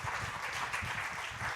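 A church congregation applauds for Jesus, a dense, fairly quiet and even wash of many hands clapping at once, without voices.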